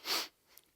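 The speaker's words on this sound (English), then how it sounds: "Casper sniffs." A reader voicing a storybook character's sniff, one short breathy intake of air, close and soft, followed by near silence.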